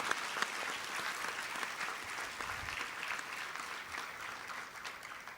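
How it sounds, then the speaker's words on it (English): Steady applause from a crowd at a Mass during the Exposition of St. Francis Xavier's Relics, dense and sustained, holding at an even level throughout without any voices standing out. "Can we have a thunderous applause"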